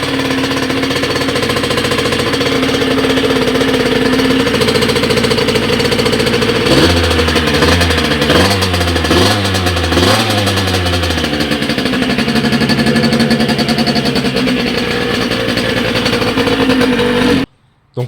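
A vintage engine runs after carburetor work, a loud, close, rapid-firing clatter that holds steady. Midway it revs up and down in a few surges, then settles back to a fast idle before cutting off abruptly at the end.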